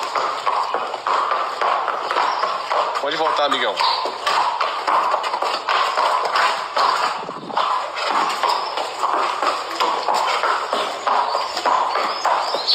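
Hooves of a black stallion at a horse stud tap in an irregular steady rhythm on hard ground as it is led, close by, with someone speaking over the steps.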